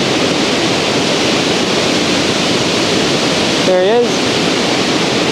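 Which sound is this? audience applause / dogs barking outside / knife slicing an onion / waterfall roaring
waterfall roaring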